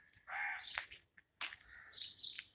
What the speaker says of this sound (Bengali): পাখির ডাক শোনালাম